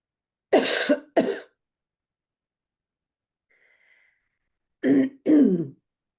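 Two pairs of harsh coughs or throat clearings, close and loud, separated by silence with a faint tone in between.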